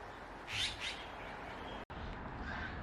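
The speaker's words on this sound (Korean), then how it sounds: "선명하게 들리는 새소리를 들으며 내려왔다" Birds at a campsite in Gurye give a couple of faint, clear chirping calls early on over a soft outdoor background, followed by a brief click and quieter distant tweets.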